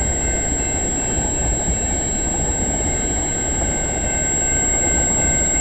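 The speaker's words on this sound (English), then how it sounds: "Now we got a Government of Canada hopper." A freight train with a Government of Canada hopper car rolls past at Egerton Street in London, Ontario: a steady, loud rumble of wheels on rail with faint high metallic squeal, unbroken throughout.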